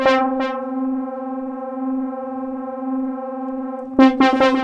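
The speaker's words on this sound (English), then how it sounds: "Now a reverb, 370 amount." Sustained synth note through a DRC synth plugin with reverb applied, a steady buzzy tone with short plucked attacks at the start and end, each trailing a reverb tail.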